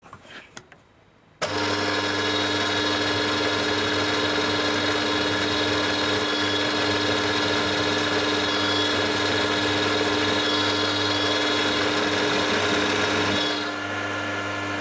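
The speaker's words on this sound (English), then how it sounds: "And drill the second centre drill hole." A drill press or lathe running a centre drill into a metal block for a torsion boring bar set, a steady, loud machine whine with a constant tonal hum starting abruptly after a quiet moment and winding down near the end.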